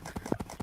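Horse hooves clip-clop in Minecraft, a steady run of hoofbeats with a brief whinny-like burst in the middle, fairly quiet and alone.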